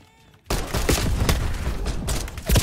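Rapid pistol gunfire in Black Ops 6 multiplayer, a quiet start giving way at once to a loud, steady run of sharp shots with echoing booms that continue to the end.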